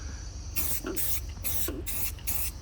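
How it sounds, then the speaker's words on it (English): A spray can hisses out a coating onto a car body's seams in four short, close bursts with brief gaps, applied heavily, over a low background rumble. "So we'll spray it a little heavy, as long as I don't get too dripped on here."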